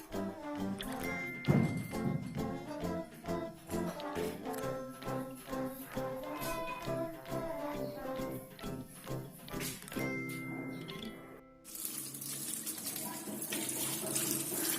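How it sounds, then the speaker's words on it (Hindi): Sliced potatoes are washed under a running tap, water splashing and gurgling into a bowl with scattered knocks and clunks. The flow stops briefly near the end, then returns as a steadier rush. "आलू हमने काट लिए हैं, अब इनको धो लेंगे अच्छी तरह।"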